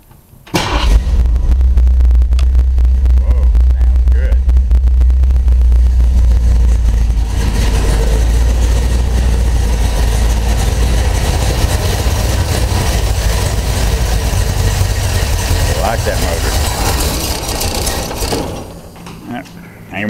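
A 1965 Ford Mustang engine runs steadily and loudly close by, a deep rumbling idle with some mechanical clatter, holding even for most of the clip before dropping off near the end.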